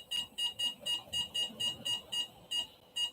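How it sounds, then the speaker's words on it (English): A LiPo battery charger in storage discharge mode beeps repeatedly, about a dozen short, even, high electronic beeps in a fast steady rhythm, close and moderately loud. "I hope you can turn off the beep sound."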